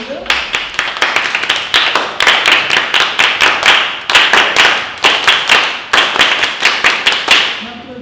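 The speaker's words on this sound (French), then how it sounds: "On peut s'applaudir." A group of children claps rhythmically in bursts of quick, sharp handclaps, loud and close, with short pauses between rounds.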